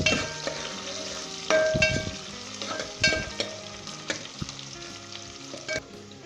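Garlic and ginger fry in oil for a Punjabi mutton dal, a constant close sizzle broken by the clatter and scrape of a spoon stirring against the metal pan every second or so.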